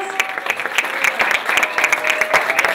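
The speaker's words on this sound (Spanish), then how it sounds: "aplausos para todos" Applause rings out at a choir gathering in the Honorable Chamber of Deputies, with a room full of people clapping in a lively, uneven patter and a few sharper claps standing out nearby.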